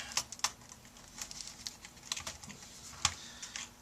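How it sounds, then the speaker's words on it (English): Light plastic clicks and taps come in an irregular, close series as the keyboard is worked loose from an HP Pavilion dv650 laptop, with no talking. "And now we're going to pull the keyboard."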